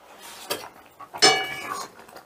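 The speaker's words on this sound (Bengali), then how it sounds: "এবারে ঢাকাটা তুলে নিলাম।" A lid lifted off a cooking pot of moong dal in a home kitchen, a couple of light metallic clinks and a brief ringing scrape, close and fairly quiet.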